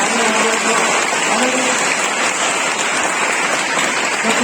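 Steady, dense clapping from an audience at a block-level school science exhibition, a continuous hissing wash like rain that holds at an even loudness for the whole stretch, with no distinct voices standing out.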